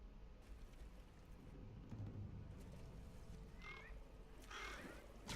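Dull, low calls from birds in the game Hand of God sound at a moderate distance over a steady ambient bed, with a couple of brighter bursts near the end.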